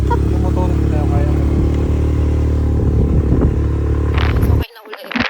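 A motorcycle engine idles and rumbles steadily and loud up close, with rattly clatter over it, then cuts off abruptly near the end, leaving quieter movement noise.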